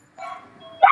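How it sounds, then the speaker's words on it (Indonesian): A single small dog yips and barks briefly during a live stream, one short whining call followed by a sharper bark at the end, fairly close and alone without talk. "Ada bunyi guguk ya?"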